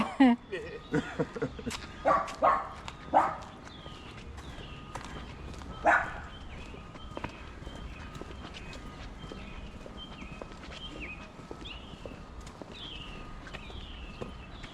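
Two dachshunds bark a few sharp times early on during an outdoor street walk in a New York City neighborhood, moderately close, then fade while a voice talks and footsteps and distant yaps continue.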